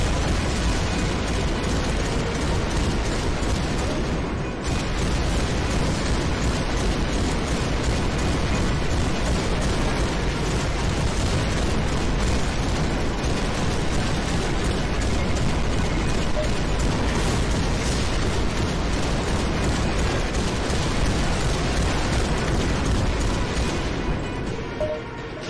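Loud game explosions roar almost without pause through the VR shooter Beach Head, layered booms and bursts like artillery fire that form a thick, sustained din for about twenty-five seconds, with no one talking.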